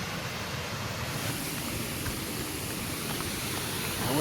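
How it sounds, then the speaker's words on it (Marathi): The Ghubadi waterfall near Jawhar roars as a steady, dense rush of falling water, loud and unbroken throughout with no voices over it. "आवाज येतोय खडखड धबधब्याचा"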